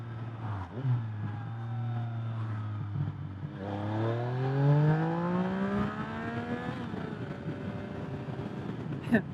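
A Yamaha XSR900 motorcycle with an Akrapovic aftermarket exhaust idles with a deep steady hum, then revs up and holds high before easing back down, loud and close.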